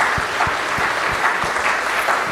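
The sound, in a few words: audience applause at a music recital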